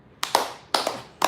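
Hand claps from a live WWE NXT Takeover Toronto 2019 recap stream, several sharp claps in small irregular bursts, close and fairly loud with no talk.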